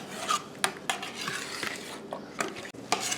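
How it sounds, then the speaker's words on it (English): A spoon scraping and stirring sugar-free apple butter in a cooking pot, with a steady rasping rub broken by a few sharper clinks against the pot's side, close and fairly loud, with no talking. "So we're just going to stir this and cook it until it gets really thick."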